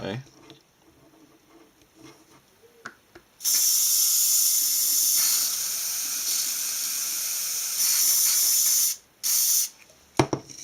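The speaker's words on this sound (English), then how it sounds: "So, I've got a plastic cup, got my hairspray, and we want to kind of siphon this into there." Hairspray from an aerosol can is sprayed into a plastic cup, giving one loud, continuous hiss lasting several seconds after a quiet start, then a short second burst near the end.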